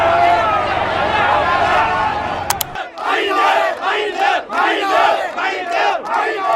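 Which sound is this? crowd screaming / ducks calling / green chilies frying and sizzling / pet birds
crowd screaming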